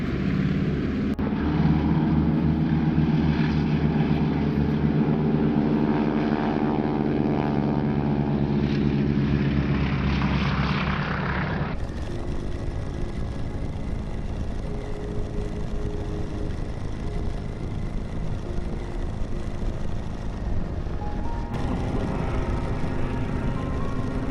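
WWII-era propeller training airplane in flight, a loud continuous engine drone with a wavering tone that shifts in pitch midway, steady and unbroken with no talk.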